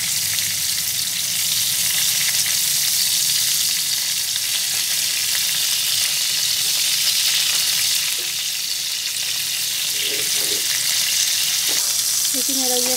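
Potatoes fry in oil in a kadhai, turning golden for a Bengali-style aloo potol dish, giving a steady, dense sizzle that fills the whole stretch, with a few faint clinks near the end.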